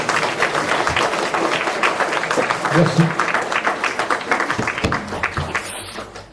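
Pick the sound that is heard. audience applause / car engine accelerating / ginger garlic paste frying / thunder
audience applause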